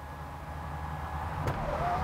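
Hyundai Kona electric sunroof motor running inside the car, a steady low whir with a sharp click partway through and a rising mechanical whine toward the end.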